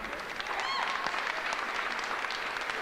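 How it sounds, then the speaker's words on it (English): Applause from a keynote event audience fills a few seconds with a dense, steady patter of many hands, moderately loud and even, with a brief tonal squeak near the start. "Let's give it a round of applause for Greg and the team for Secret Knock."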